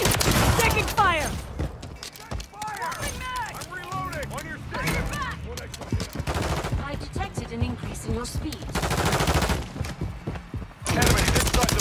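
Gunfire in Call of Duty Modern Warfare 3 multiplayer near a bridge: loud bursts of rapid automatic rifle fire and single cracks in uneven clusters, mixed with shouted voices and radio chatter, with brief lulls between volleys.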